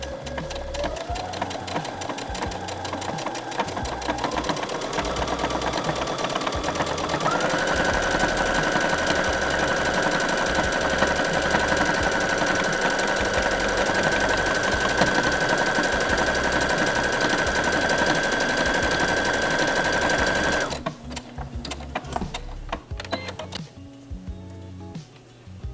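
Sewing machine stitching a buttonhole in minky fabric for a turtleneck top, running steadily and loudly for about twenty seconds with a shifting motor whine before stopping, then a few quieter handling sounds.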